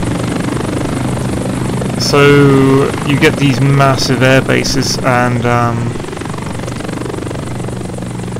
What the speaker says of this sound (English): Let's fly a Black Hawk around.